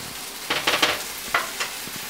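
A steak sears in a pan with a steady low sizzle, broken by a few short bursts of scraping and clatter as the meat is placed and handled close by. No one talks.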